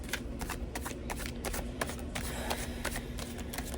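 A deck of cards being shuffled up close, with repeated crisp riffling bursts and snaps running continuously and evenly throughout, no talking over it.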